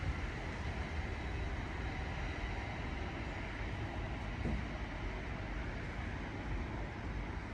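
A Class 710 electric train pulls away from Harringay Green Lanes station, a steady broadband rumble and rolling hum of wheels and traction close by, holding even throughout with no voices.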